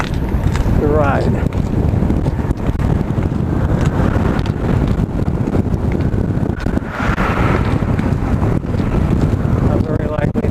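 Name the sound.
strong wind on a bridge during a bike ride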